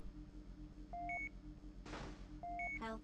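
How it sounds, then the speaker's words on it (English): Low-health warning beep from the vehicular combat game Twisted Metal, a pair of electronic tones repeating twice over steady engine rumble and a sudden burst of noise, ending in a quick run of bleeps. "why am I only hearing the fucking low health beep?"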